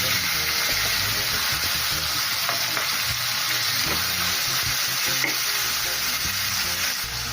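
Pinakbet ingredients sizzling steadily in a hot pan while being stirred, a continuous loud fry with occasional scraping clinks throughout.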